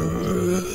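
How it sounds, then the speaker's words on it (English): A single loud, drawn-out burp, a deep guttural rasp lasting under a second, heard up close with no talking over it. "You're not supposed to burp that loud."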